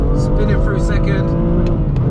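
A loud modified 450 bhp BMW M2 engine roars at high revs with tyres spinning through second gear, one steady continuous blast of noise.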